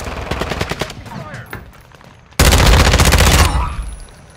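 Rapid automatic gunfire from a video game machine gun in a night battle, first a scattered burst of shots, then a loud sustained volley close by that trails off.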